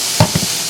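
Ham dropped into a hot wok over a rocket stove, a couple of quick close thumps and a soft sizzle under steady background hiss.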